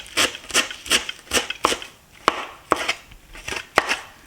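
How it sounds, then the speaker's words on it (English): A knife roughly chops cilantro on a cutting board, a close, rhythmic run of about a dozen crisp taps with a short pause midway. "I'm going to chop some cilantro. Roughly chopped."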